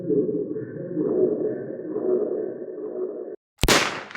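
A sharp, loud gunshot-like burst cracks out after a brief silence, ending a stretch of dense, droning music.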